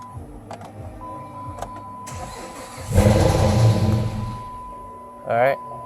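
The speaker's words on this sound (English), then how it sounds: "now we're supposed to start and run the engine until it stalls" A 2008 Dodge Charger 3.5L V6, hooked to a jump box, cranks briefly and catches, running roughly for a couple of seconds before fading, with a steady electrical hum throughout and a short whirring burst near the end.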